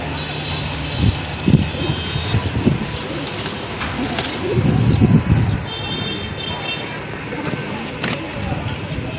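Female Lotan pigeons at a pigeon sale give several low, soft coos in short bursts, close by, over faint background noise.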